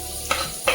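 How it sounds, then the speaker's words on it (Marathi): Chopped onion with crushed garlic, turmeric and asafoetida sautéing in a pan for a safflower-leaf (karadai) dish, heard as a soft steady sizzle broken by two short scraping stir strokes. "आता कांदा व्यवस्थित परतून घ्यायचा."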